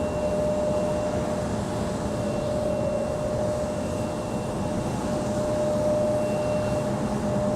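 An executive jet at Raleigh Durham International Airport makes a steady, loud engine roar with a constant whine running through it. The sound holds evenly throughout with no break.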